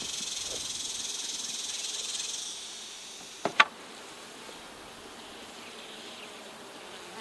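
Honey bees at a new hive during an inspection, building wax on plastic foundation, give off a soft, continuous buzz. It fades slightly partway through, broken by a couple of brief sharp clicks.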